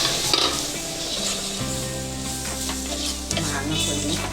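Spices and turmeric stirred and sizzling in a hot pan for a mango sardine curry, a steady close frying hiss with scraping stir sounds throughout, no talking.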